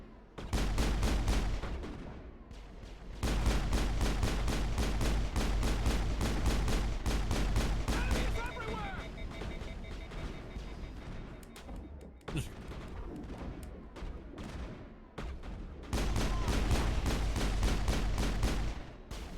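Rapid, dense gunfire in a space combat video game, loud and sustained in long bursts with brief gaps, and faint chirpy electronic effects mixed in.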